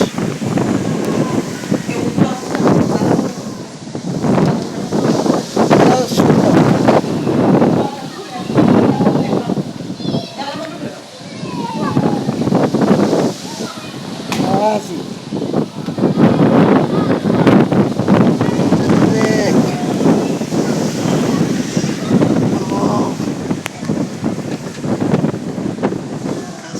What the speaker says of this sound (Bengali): কি বাতাস স্টার্ট হয়েছে ওয়াও